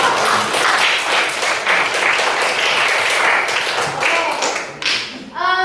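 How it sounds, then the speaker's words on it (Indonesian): A group of high school students in a floor gymnastics class claps steadily in sustained applause, loud and close, with a few voices chattering underneath before it winds down. "Oke, beri tepuk tangan dulu kepada kelompok."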